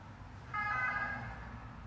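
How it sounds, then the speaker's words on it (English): A faulty ambulance siren sounds faintly from the distance, a brief, thin wavering tone rising and fading over a low steady urban hum. "I think that might have been a broken ambulance."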